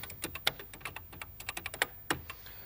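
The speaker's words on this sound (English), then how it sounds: "if I type in Space Shuttle" A 1982 computer keyboard is typed on with quick, irregular clicking keystrokes, close and fairly quiet, with a couple of sharper key presses standing out and no voices.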